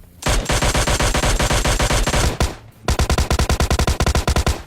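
Rapid bursts of automatic gunfire from a Mini 14 rifle in the mobile battle-royale game PUBG Mobile Lite, a long loud volley, a brief pause, then another steady string of close, punchy shots.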